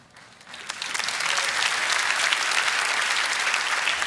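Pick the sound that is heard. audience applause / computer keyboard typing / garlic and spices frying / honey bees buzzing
audience applause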